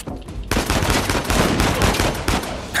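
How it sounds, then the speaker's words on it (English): Blind-fire gunfire in Uncharted 4: after a quiet start, a dense, loud burst of rapid overlapping shots runs continuously, with brief dips between volleys. "I'm just gonna blind fire over this box and destroy this guy"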